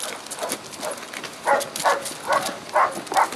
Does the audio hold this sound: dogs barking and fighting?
yes